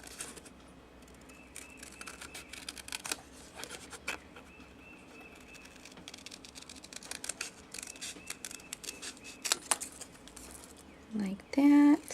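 Scissors snip paper while a bookmark card is cut out, producing soft, irregular clicks and rustles that are quiet and close, with a louder crinkle of handled paper near the end.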